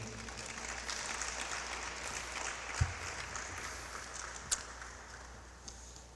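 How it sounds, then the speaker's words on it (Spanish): Faint, steady applause from a church congregation carries on at a distance, with a couple of sharp knocks standing out. "Démosle un fuerte aplauso"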